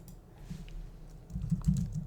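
Keys on a computer keyboard tapped in quick, irregular bursts at close range, light at first and then busier and a little louder toward the end while a formula is entered into a graphing calculator, with no talking.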